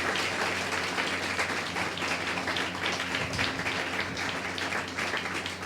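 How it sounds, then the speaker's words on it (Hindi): A church congregation claps loudly during a Sunday sermon, a dense, steady wash of applause filling the room throughout, with faint music or hum underneath. "जोर से ताली बजाकर प्रभु का धन्यवाद करेंगे।"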